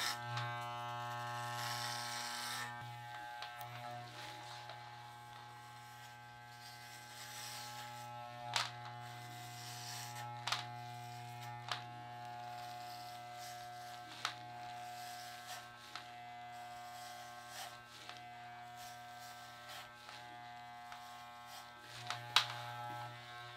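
An electric shaver buzzes steadily as a man's head is shaved, a continuous hum broken by brief pauses and with small clicks and knocks throughout.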